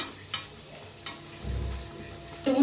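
Bread pakoda deep-frying in hot oil gives a faint, steady sizzle, broken by a few sharp clicks and a brief low rumble.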